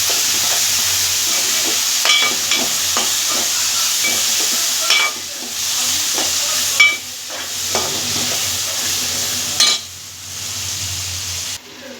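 Tomatoes fry in a pan for egg curry: a bright, constant sizzle with intermittent scraping stirs and brief dips in the hiss, close and fairly loud.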